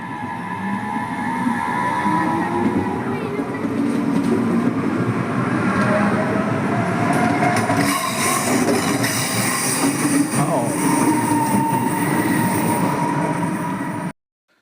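A passenger train in Germany rumbles loudly and steadily, a rising electric whine building as it gathers speed, then cutting off abruptly at the end.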